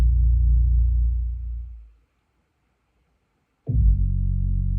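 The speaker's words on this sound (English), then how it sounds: "Here's the old bass line." A deep, loud electronic bass line from a beat, sustained and droning for about two seconds, then dropping out into a gap of near silence before slamming back in with the same heavy low tone.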